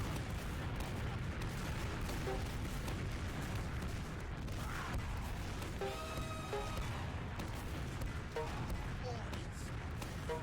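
Grenade blasts and projectile fire from a competitive shooter video game match, a dense continuous barrage of booms and shots with bright tonal game effects scattered through, with a voice talking over much of it.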